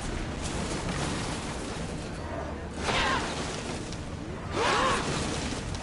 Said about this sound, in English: We've got arrows coming!